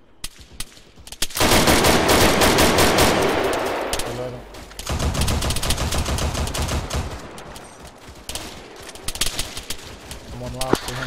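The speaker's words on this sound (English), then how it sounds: "Is that heavy machine gun work?" Heavy .50-calibre machine gun fire in Arma 3 comes as loud sustained bursts and scattered shots, with a brief lull midway before the firing resumes just as thick.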